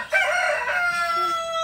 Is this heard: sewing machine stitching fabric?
no